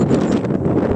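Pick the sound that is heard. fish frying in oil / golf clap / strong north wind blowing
strong north wind blowing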